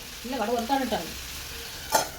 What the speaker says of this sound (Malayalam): ആ കടുക് വറുത്താണ് വെച്ചത്